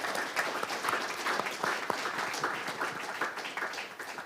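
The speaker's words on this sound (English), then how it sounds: "Worth an applause." An audience claps in steady, continuous applause, fairly even in loudness and heard at a moderate distance, with no talk over it.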